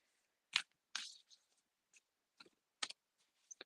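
Tarot cards shuffled by hand in a quiet room, producing a few sparse, faint crisp clicks and riffles spaced irregularly apart.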